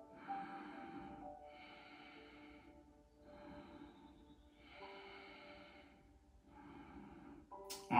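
Slow, deliberate breaths during a core-strengthening yoga exercise, five or six soft drawn-out inhales and exhales in a steady rhythm, close and quiet with no talk.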